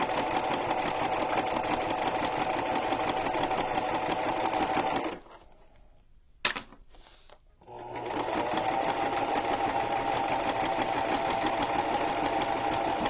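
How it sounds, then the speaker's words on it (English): A sewing machine stitches along the edge of a junk journal card cover with a steady, close mechanical whir, pausing briefly midway for a short back stitch before running on evenly. "we're just gonna back stitch a little bit. And so I'm just staying just barely inside that card."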